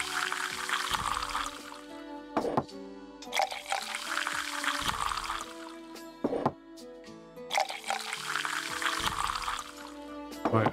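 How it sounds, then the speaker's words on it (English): Dirty dishes being rinsed in water in the game Tavern Manager Simulator, repeated sloshing and splashing swishes in steady waves with brief clinks between, fairly close and alone. "Move the mouse to rinse off the dirt in the water."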